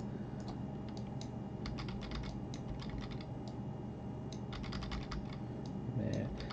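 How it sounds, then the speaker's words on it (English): Arrow keys on a computer keyboard are tapped in quick, irregular bursts of light clicks, close and fairly quiet against a faint background hum. "I'm just using the arrow keys on the keyboard"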